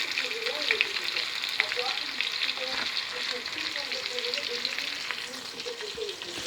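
Salted onions, sliced into half-moons, fry and sizzle steadily in a pan while being stirred, with intermittent soft scraping over the constant close hiss.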